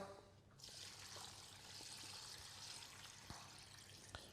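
Water poured from a tap or jug into a stock pot holding vegetables, bay leaves and peppercorns, a steady hissing trickle that starts after a brief pause and runs on with faint clinks.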